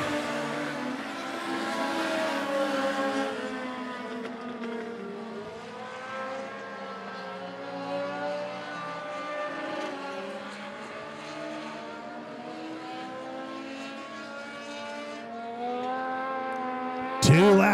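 Race cars battle bumper to bumper in a heat race at Monett Motor Speedway, including the number 41 machine. Engine notes sustain and rise and fall in pitch for the whole stretch, with a sharp burst at the very end.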